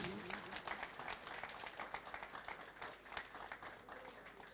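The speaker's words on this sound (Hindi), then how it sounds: "तालियां रुकनी नहीं चाहिए प्लीज।" A seminar audience in a hall keeps up continuous applause, with individual claps audible in a quiet, distant-sounding patter.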